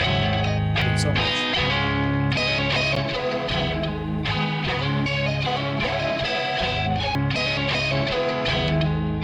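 Distorted beat samples play loud and gritty, with a dense, saturated tone over a steady rhythmic pattern that runs without pause.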